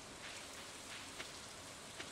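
Steady rain falls in the video game Stardew Valley as an even, faint hiss with a few soft drop ticks, and there is no talk.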